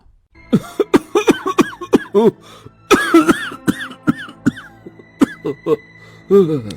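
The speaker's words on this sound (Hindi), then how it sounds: "आपको खांसी होली है, मैं अभी पानी देती हूँ।" A man coughs repeatedly in rapid, harsh fits with brief gasps between, close and loud, continuing throughout.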